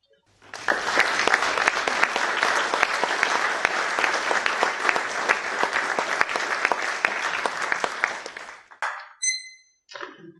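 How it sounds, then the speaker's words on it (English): An audience at Portsmouth Guildhall applauds after a youth speaking-competition speech, with dense, even clapping for about eight seconds before it stops abruptly and a few brief tones follow. "can you join me in applause to her and her wonderful speech?"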